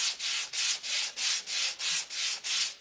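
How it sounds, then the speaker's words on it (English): Steady back-and-forth sanding of wood, eight even rasping strokes in a regular rhythm, close and clear with no talking. "Again, sanding is optional."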